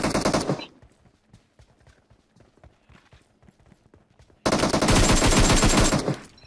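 Gunfire in the mobile battle game PUBG Mobile: a loud burst of automatic fire opens, then faint, scattered distant shots crackle, then another long, loud burst of sustained rapid fire.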